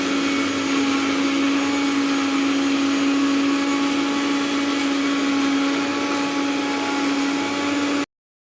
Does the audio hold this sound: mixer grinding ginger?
yes